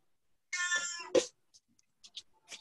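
A cat gives a drawn-out meow up close, followed by a short sharper call and a few faint soft chirps and noises in otherwise quiet surroundings.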